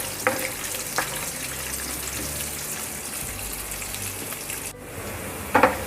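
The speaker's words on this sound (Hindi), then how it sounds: "बस हल्का सा इसका कच्चापन निकल जाए उतना हम इसे फ्राई करना है" Chopped onion frying gently in a pan for a chatpati murmura snack, a steady soft sizzle running throughout with a couple of brief louder clatters near the end.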